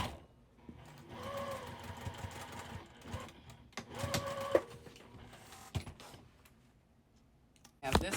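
Home sewing machine stitching pieces of a card trick quilt block together, running in several bursts of steady mechanical whirring with clicks and handling noises in between, fairly close and moderately loud.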